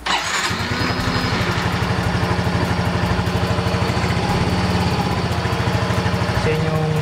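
A matte orange Honda Mio scooter engine starts with a brief crank, then settles into a steady, close putter that runs without pause, with faint voices in the background.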